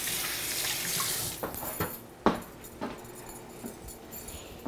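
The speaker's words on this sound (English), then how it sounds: "Let's rinse my hands off." A kitchen tap runs while hands are rinsed under it, a steady close hiss of flowing water broken by a few splashes and clatters.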